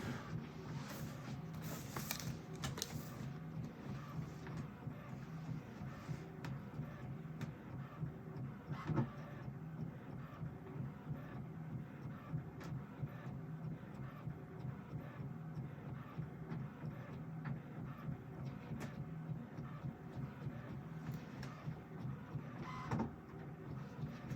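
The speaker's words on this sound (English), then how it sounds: "My printer, it's so funky." A home printer running, a faint, steady mechanical whirr and rumble with occasional clicks and a short feed burst near the start, continuing alone without talk.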